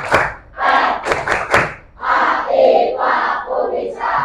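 A classroom of Indonesian schoolchildren chanting the rhythmic Tepuk IPA clap routine in unison, loud shouted syllables mixed with sharp group claps, close and energetic.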